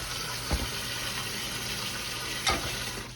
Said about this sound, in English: Give me some water here. We're gonna put this thing just till it's full with water.